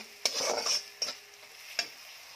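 Kolhapuri chutney spice mix being stirred in a pan to break up damp lumps: three distinct scraping strokes of a spoon against the metal over a faint sizzle, close up and fairly quiet, no talking.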